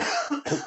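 A single short cough from a person, quiet and close, split into two quick bursts within under a second, with a brief spoken word right at the start.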